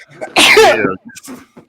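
One sharp, loud human sneeze with a brief wind-up breath, then quiet, followed by a little soft talk.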